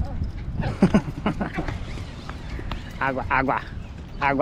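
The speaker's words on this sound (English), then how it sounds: "Let's go see the horses." Horses clip-clop on the ground at a coastal outing, a few hooves heard at moderate distance while people chat and call out over them.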